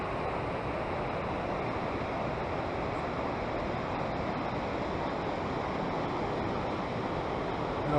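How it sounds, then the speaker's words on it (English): Deer Creek Falls roars as a steady broadband rush of falling water, constant and fairly loud throughout, heard from just above the falls with no talking. "Deer Creek Falls is just down below us"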